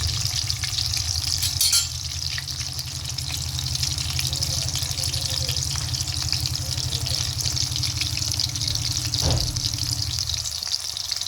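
Chicken seekh kebabs made from raw mince frying over low heat in a pan, a continuous close sizzle with steady crackle and bubbling and a brief clatter near the start, no talking.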